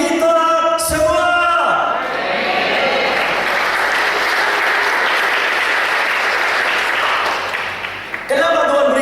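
A church congregation bursts into loud, sustained applause during a sermon, a dense wash of clapping that fills most of the clip before dying away, with a voice heard briefly at the start and end.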